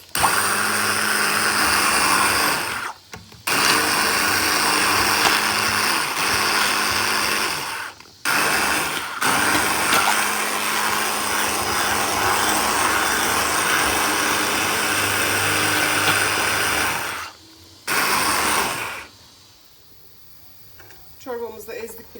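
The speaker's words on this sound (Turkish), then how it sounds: "Çorbamızı böyle blenderla eziyoruz." An electric blender purees potato and carrot soup in loud whirring bursts, stopping briefly a few times before a final pause, with no talk over it.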